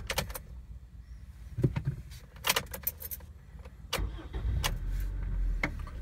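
A 2004 Honda Civic with its check engine light on is switched off and restarted, giving a close starter crank and idle rumble alongside clicks, window-motor whirs and key jingles, with the engine noise thickening toward the end.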